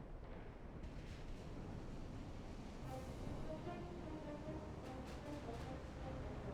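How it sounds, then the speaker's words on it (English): Warship main guns firing in Ultimate Admiral: Dreadnoughts make low, rumbling, distant-sounding booms that roll on continuously, with a few sharper bursts near the end and no talking. "Hagen, I want you firing your main guns on the Russell."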